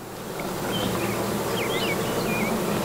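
Honeybees swarm over a hive frame with a capped queen cell, a dense, steady drone of many wings close by. Individual bees whine past in brief rising and falling tones above the hum.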